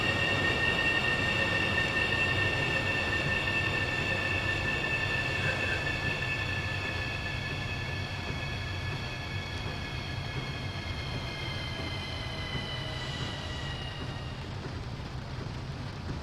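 An OEBB 4023 electric multiple unit on the Semmering railway in Train Simulator 2016 runs steadily with a continuous rumble and a high whining motor tone that gradually fades, with no talking.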